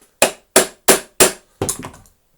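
Hammer tapping the seized front wheel of a vacuum cleaner: four sharp, evenly spaced close metallic knocks, then a quicker rattling cluster of lighter taps, with no talk.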